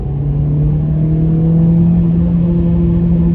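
A Renault Clio RS hatchback engine hums loudly at steady mid revs around 3000 to 4000 rpm, its pitch creeping slightly upward as it pulls, heard close from inside the car.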